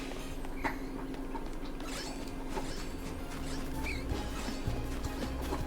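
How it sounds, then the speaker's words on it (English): A young dog gnawing on a deer antler gives a steady, low grinding and scraping with scattered creaks and clicks, close by, continuous through the clip with no talking. "That's my dog chewing on her deer antler."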